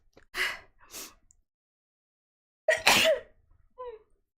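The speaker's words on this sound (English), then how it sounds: "I have to sneeze." A woman at a breakfast livestream in Japan gives a few breathy sharp intakes, then one loud close sneeze and a small vocal sound after it, in an otherwise quiet room.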